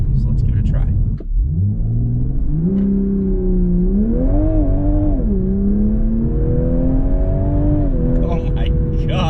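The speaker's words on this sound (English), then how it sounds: "you mash the brake, gas all the way down. It's engaged for 3 seconds, and then you take off." Toyota GR Supra or BMW M2 sports car launching under launch control, engine droning loud then dipping before rising harmonics as it surges away, pulling hard and steady through the gears with a voice talking over it.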